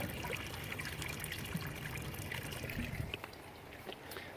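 Water trickling and splashing in an aquaponic garden growbed fed by a pump through barrels, a soft continuous dribble heard fairly faintly outdoors with no talk.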